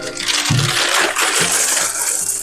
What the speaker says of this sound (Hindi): इसके अंदर अभी हम पेबल्स डालेंगे,